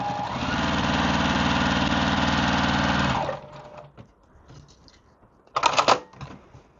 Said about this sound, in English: we're just going to stitch down both of those lines